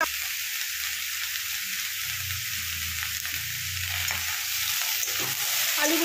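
Sliced potatoes frying in a pan while being stirred, a loud continuous sizzle broken by scraping and stirring noises, with no talk.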